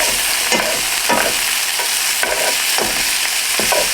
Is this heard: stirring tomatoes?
yes